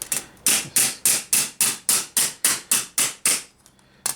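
Eleven crisp metallic hammer taps on gothic gauntlet armour fluting ring out at an even, steady pace, close and fairly loud, with no talking.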